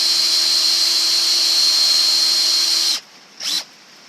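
A steady, high-pitched power drill whines continuously for about three seconds boring into metal on a Weber engine, then cuts off, followed by a brief second burst.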